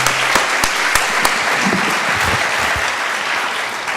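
Applause from an audience at an annual meeting on antimicrobial resistance follows a panel, with loud, close, continuous clapping from many hands and a few sharp individual claps standing out, no talking over it.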